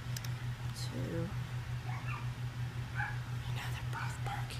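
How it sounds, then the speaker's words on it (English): Two dogs barking in short, faint bursts somewhere in a home, set against a steady low electrical hum with scattered yips and whimpers. "Now they're both barking."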